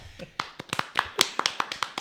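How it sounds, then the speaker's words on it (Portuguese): An audience on a church-related Christmas talk show claps briefly and sparsely as a guest is welcomed, with about a dozen separate, uneven claps scattered across two seconds rather than a full, dense ovation. "Palmas."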